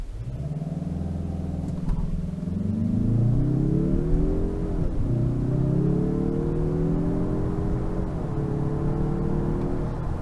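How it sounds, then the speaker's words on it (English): A 2024 Mazda 3 Hatch Turbo accelerating on a night drive, its engine note climbing steadily through two gear shifts with a smooth, rising hum, heard from inside the cabin without talk. "So I'm ready to start driving the fun hot hatch premium Mazda 3."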